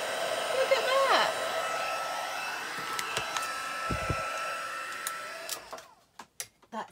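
A heat embossing tool blows hot air in a loud, steady whirring hiss while a Christmas card is being made, then clicks off, leaving a few soft knocks.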